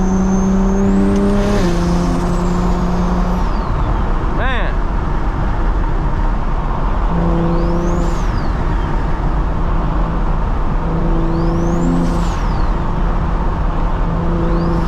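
BMW 335i engine accelerating hard on rural back roads, rising and falling through repeated gear pulls with a steady loud cabin drone, while someone talks excitedly over it.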